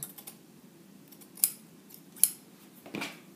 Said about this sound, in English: I'll cut this off. I'll trim it.